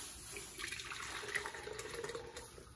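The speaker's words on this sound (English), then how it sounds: "And now it's gonna go through this mesh strainer into my French press," Oat milk masala chai poured through a mesh strainer into a French press, a steady trickling, splashing liquid stream lasting a few seconds, close and fairly quiet with no talk.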